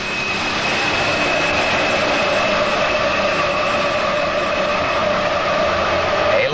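A big multi-turbocharged engine in a 7,000-pound modified pulling tractor roars continuously at full power during a tractor pull, with a loud, steady whine and rumble and no pauses.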